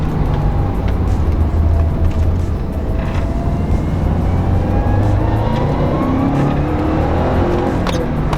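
A Subaru WRX hatchback engine idles steadily and close after a spark plug change, a continuous low rumble with a faint higher whine holding even throughout, no voices.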